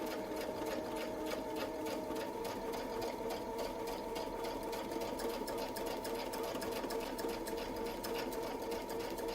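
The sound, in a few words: sewing machine stitching an outer feather on a quilt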